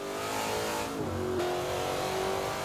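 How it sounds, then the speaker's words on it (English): A 2015 Corvette Z06 V8 engine in the racing game Forza Horizon 2 roars continuously as it revs, pitch climbing, briefly dipping, then rising again in a loud, sustained race-car snarl. "I am loving the sound of this V8, guys."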